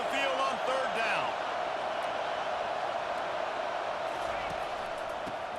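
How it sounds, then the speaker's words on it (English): Home crowd roars and cheers in an NCAA college football video game as the defense tries for a third-down stop, a loud sustained stadium swell with a commentator talking over it throughout. "Here comes this home crowd as the defense tries to get off the field on third down."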